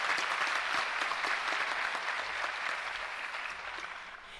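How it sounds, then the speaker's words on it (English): Steady applause from a crowd at a school district convocation, a dense wash of clapping that holds for several seconds and gradually fades slightly toward the end. "give them a round of applause first"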